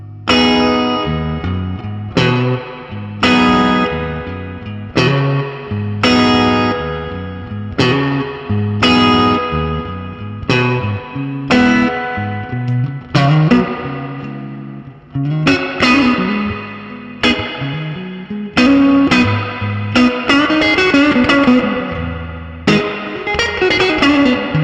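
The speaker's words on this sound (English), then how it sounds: "one of the other main features from this period of blackface amps is of course the classic 60s lush reverb that you can get" An electric guitar played through a 1960s blackface amp with lush spring reverb rings out in loud, repeated strummed chords, each decaying into a wash of echo, with no voices.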